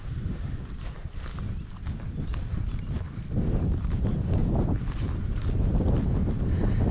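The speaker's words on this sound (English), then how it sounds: "Be a nice place to camp if the wind wasn't blowing." Wind blows across an open hiking trail on Alabama's Pinhoti Trail, buffeting the microphone in a steady rushing roar that strengthens halfway through, with scattered crunching footsteps beneath and no speech.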